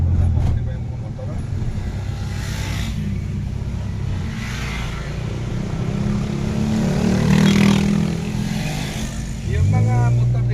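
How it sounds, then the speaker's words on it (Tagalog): Motorcycles and other traffic roar past on a road in Cebu, engine noise swelling and fading in passing waves, with people chatting over the traffic. "Yung mga motor dito parang normal days lang nila eh"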